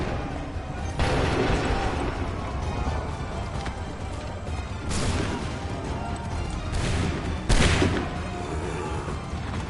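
Soldiers' musket volleys in Assassin's Creed 3, a few sharp, crackling bursts of gunfire cutting through chaotic battle noise with galloping hooves and clatter.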